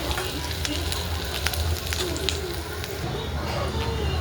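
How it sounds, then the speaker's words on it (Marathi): Onion browning in a kadhai for a Marathi sev bhaji gravy gives a steady, moderate sizzle with a low hum beneath it, continuous throughout and broken by a few faint scrapes. "इथं आपण ठेवलेले कढई, त्यात ठेवलेला आहे कांदा भाजत"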